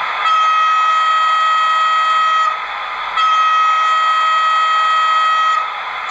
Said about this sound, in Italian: una tromba di segnalazione.